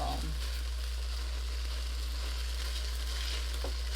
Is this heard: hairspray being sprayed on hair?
no